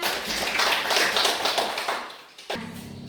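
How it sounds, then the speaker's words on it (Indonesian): Children in a classroom applauding a correct answer, a brisk patter of many small hands clapping that tapers off, then a brief pause and a quieter resumption. "Oke, benar. Tepuk tangan."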